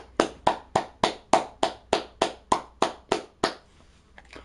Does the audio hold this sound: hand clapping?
yes